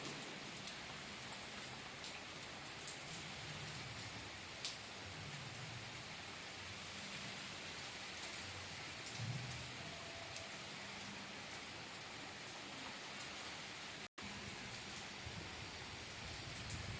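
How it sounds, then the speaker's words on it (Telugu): Heavy, steady downpour drenching a home garden, a dense continuous hiss of rain that stays loud and even throughout, with no voices. "కుండపోత వాన పడుతుందండి"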